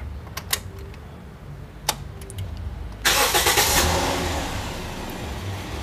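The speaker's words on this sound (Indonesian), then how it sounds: "baru kita nyalain mesin mobilnya, sahabat" A couple of sharp clicks, then a used car's engine cranks and catches with a loud burst before settling into a steady idle nearby.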